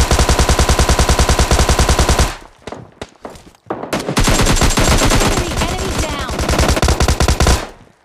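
A Thompson submachine gun in PUBG Mobile Lite fires long rapid bursts, loud and close, pausing briefly before another sustained volley.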